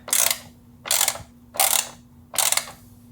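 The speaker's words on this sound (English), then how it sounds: "And these are a hex 5 or 6, I believe, to tighten it down." Four even, rhythmic clicking bursts from a hex bit ratchet tightening screws in a Nissan GTR engine bay, close and crisp with brief pauses between strokes.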